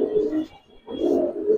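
A Giribaz pigeon of the Palla line coos in two low, throaty bursts separated by a brief pause, close and fairly loud with no talking.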